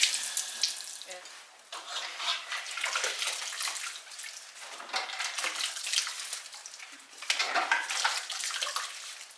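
Hot tap water runs and splashes over a glass canning jar being rinsed, a steady hiss of flowing water with shifting splashes as the jar is turned.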